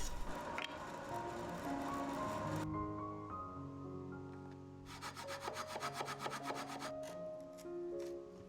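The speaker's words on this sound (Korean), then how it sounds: "이제 외부의 라인을 따라 밴드소로 잘라 형태를 갖춥니다." A band saw cuts through a block of wood along the outline of a wooden ocarina. The blade drones in long, steady rasping stretches, and there is no speech.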